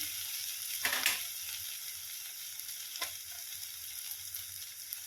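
Ground green peas roasting in a pan until reddish, a faint steady dry sizzle with two brief louder scrapes of stirring, close and alone.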